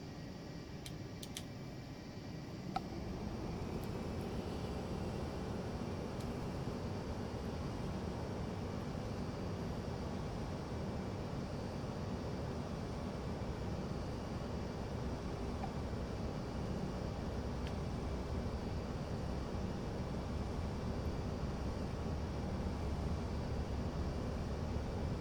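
A payware Northrop Grumman RQ-4 Global Hawk drone flies in Flight Simulator X, giving off a steady, dense engine and air roar that swells in after a quieter opening and then holds unbroken to the end, with no voices.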